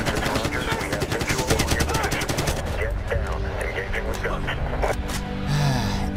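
Rapid gunfire bursts in the Medal of Honor video game, dense and loud in the first half, then thinning to scattered shots with a voice speaking over the action.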